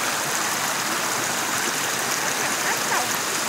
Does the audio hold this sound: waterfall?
yes